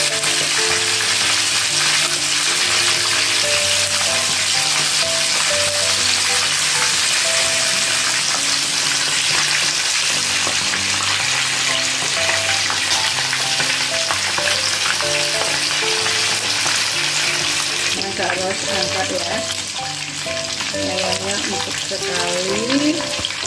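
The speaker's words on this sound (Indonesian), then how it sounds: "ini gorengnya gak usah lama" Pieces of meat fry in a hot pan with a loud, continuous sizzle and crackle that is close and steady throughout, accompanied by background music and no speech.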